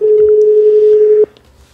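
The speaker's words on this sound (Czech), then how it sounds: "Tak už to vyzvání." A telephone call from a radio studio rings out: one steady, unbroken ringback tone holds for about a second before cutting off abruptly, followed by near silence.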